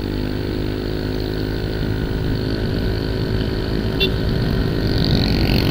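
A Yamaha Mio i 125 scooter with a CVT set up on 11 g and 12 g flyballs and a 1000 rpm center spring runs at full throttle, a loud, close, unbroken engine drone with wind rush.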